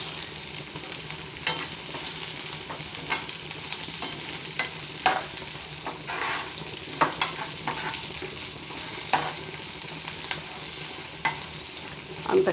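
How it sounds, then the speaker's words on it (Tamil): Onion, curry leaves, mustard seeds, urad dal and pepper sautéing in hot oil, a steady close sizzle broken by repeated scraping stirs of the spoon, with no voices. "கடுகு, உளுத்தம் பருப்பு, கொஞ்சம் மிளகோடு சேர்த்து வெங்காயமும் கருவேப்பிலையும் போட்டு கொஞ்சம் நல்லா வதக்கிக்குவோம்."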